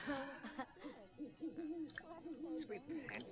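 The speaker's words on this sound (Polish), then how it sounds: "skąd ja tu jakieś sowy słyszę?" Owl hooting in The Sims 4 game, faint repeated hoots in a quick rhythm, quiet and close to the game's low background.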